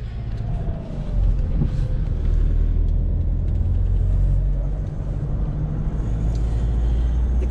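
A Mahindra pickup truck with a manual gearbox drives along, its engine a steady low rumble with road and wind noise heard from inside the cab, loud and continuous.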